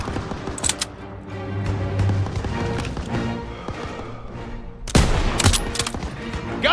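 Machine guns rattle in dense bursts through a Call of Duty WWII battle in a town square with a half-track, layered over a constant roar of combat. A sharp, louder volley breaks out around the five-second mark.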